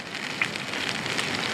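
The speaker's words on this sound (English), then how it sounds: "A little bit of rain." Steady rain pattering in a Pacific Northwest forest at a bushcraft campsite, a continuous soft wash of drops with a few brighter ticks, close and moderately loud with no talking.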